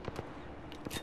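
Gunfire in the video game Apex Legends during a ranked match, a few sharp shots clustered at the start and end with a gap between, moderately loud under a low game background, no talking.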